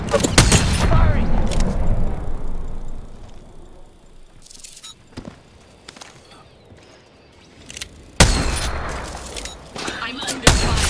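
Weapon fire in a space combat video game, several loud booming bursts separated by quieter stretches, with a voice talking over parts of it.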